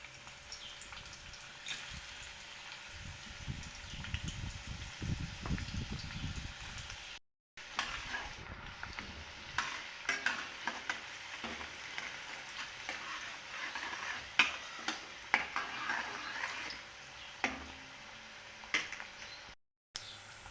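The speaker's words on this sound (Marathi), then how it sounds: "प्रथम तेलामध्ये कांदा घालून घ्यायचा आहे" Onion fries in oil for chicken sukka, a faint steady sizzle with a denser stirring burst early on, then scattered light crackles and scrapes, two brief silent gaps, no talk.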